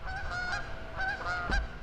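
Several geese on a lake honk repeatedly from a moderate distance, their nasal calls overlapping in a short, busy chorus over faint background noise.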